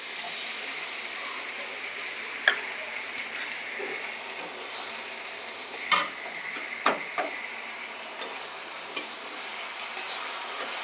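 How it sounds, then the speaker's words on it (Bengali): Tamarind pulp goes into a pan of cooking pumpkin, with a steady soft sizzle and scattered sharp clicks of a spoon stirring against the pan. "এবার আমি দিয়ে দেবো তেঁতুল গোলাটা, তেঁতুল যেটা আমি গুলিয়ে রেখেছিলাম সেটা"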